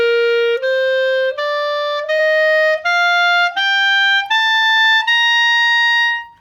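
A woodwind instrument plays a slow ascending scale up to high C, eight clear sustained notes one after another with short breaks between them, close and loud with no talking.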